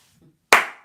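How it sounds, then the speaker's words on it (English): A single sharp hand clap, loud and close, with a brief decaying ring after it in an otherwise quiet room, preceded by a faint low murmur. "there's the hand clap."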